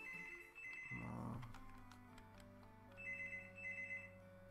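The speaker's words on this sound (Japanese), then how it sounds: "電話。" A telephone trills in short repeated bursts in Final Fantasy VII, pausing between rings, over a quiet electronic background with a brief low thud near the start.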